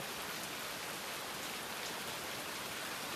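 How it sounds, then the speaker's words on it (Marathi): Heavy rain pours down outdoors: a steady, dense hiss of drops on surfaces, constant and even throughout, with no voices. "बघू शकता बाहेर किती पाऊस पडतोय"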